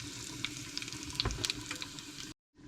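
Dal sizzling and frying in a pan for a dal, rice and mutton curry, a steady close crackle with scattered pops and spits, then a sudden brief cut to silence before the sizzle resumes.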